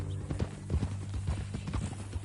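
Horse hooves clip-clop in a steady walking rhythm in Red Dead Redemption 2, moderately close, over a low ambient hum.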